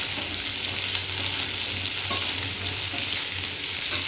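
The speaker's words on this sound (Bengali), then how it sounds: "এবারে এই যে আলুটা দিয়ে দেবো।" Thinly sliced, finely cut potatoes fry in a pan, a constant bright sizzle and crackle of hot oil that stays even and close throughout, with no voices over it.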